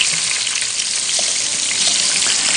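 About sixteen large shrimp fry in a pan with a dense, loud, close sizzle that holds steady with tiny crackles throughout, and no voices.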